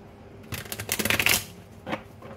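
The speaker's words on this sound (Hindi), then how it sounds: "तो अच्छे से कार्ड्स को शफल करके देन स्टेप्स पता करेंगे।" Tarot cards shuffled by hand close up, a quick rustling burst of riffling and flicking that lasts about a second, followed by one short final shuffle.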